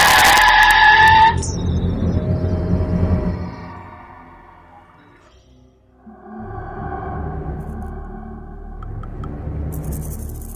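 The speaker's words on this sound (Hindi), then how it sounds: "गाड़ी की स्पीड बढ़ती गई और थोड़ा आगे जाकर पूरी तरह डिसबैलेंस होके एक बड़े हादसे से पहले सो की आवाज से रुक गई" A car skids with squealing tires and screeches to a stop on a deserted road as a story sound effect. The screech is loud at first, then fades into a lower rumbling drone that lingers on.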